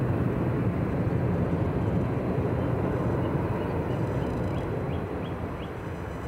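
Broad roaring rumble of an Edelweiss Airbus A320 departing Edinburgh Airport, a sustained loud jet noise that slowly fades as the aircraft climbs away, with no voices.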